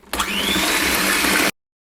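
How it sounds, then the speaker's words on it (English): An electric mixer whisks eggs into sponge cake batter, a loud close whirr that starts abruptly and runs steadily for about a second and a half before cutting off. "I'm going to do this one at a time and whisk again"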